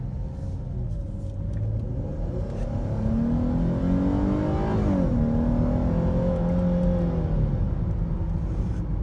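A 2018 Dodge Charger SXT engine with a K&N drop-in air filter rumbles steadily and then revs up, the pitch rising and falling once, loud and close with no talking.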